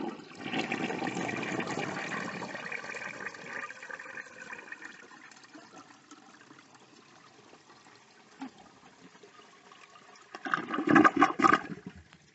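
A 1957 Standard Cadet toilet fitted with a flapper valve flushes with a loud rushing surge of water that tapers into a long, quieter trickle and refill, then a second burst of gushing water near the end.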